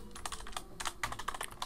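Quick, irregular keystrokes clatter on a computer keyboard as a command is typed, close and fairly quiet, with no voices over the tapping.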